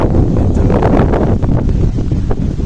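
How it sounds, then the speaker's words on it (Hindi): Cool breeze blowing steadily outdoors near a large hospital in Saudi Arabia, a loud, continuous low rumble of wind buffeting the microphone with gusty fluctuations throughout. "ठंडी ठंडी हवा चल रही है यार"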